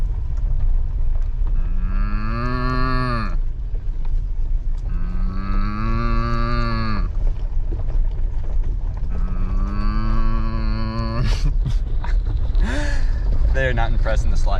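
Three long, drawn-out moo-like cow calls from a person imitating cattle while overlanding in Arkansas, loud and close with wavering pitch, followed by a few short breathy sounds.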